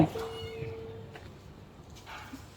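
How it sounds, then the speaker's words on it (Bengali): A cat hit by an auto rickshaw gives a thin, drawn-out plaintive meow close by, followed by fainter cries amid quiet outdoor background noise. "এখানে একটা বিড়াল দেখেন"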